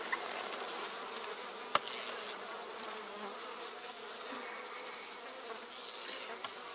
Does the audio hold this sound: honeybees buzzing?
yes